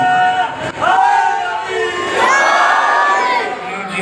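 Crowd at a Muharram majlis shouting a religious slogan together, loud massed voices rising in unison in two swelling bursts, close and filling the space.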